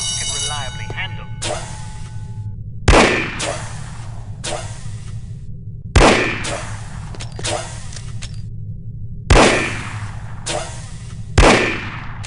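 Gunfire from the video game No One Lives Forever, with five loud, sharp shots spaced a few seconds apart over a steady droning game soundtrack, with no talk heard.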